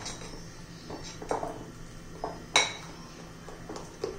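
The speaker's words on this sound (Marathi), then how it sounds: "आता चांगले व्यवस्थित मिक्स करून घ्यायचे" A spoon clinks and scrapes against a bowl while garlic-greens batter with chillies is mixed, a few sharp metallic taps standing out over quiet stirring, with no talking.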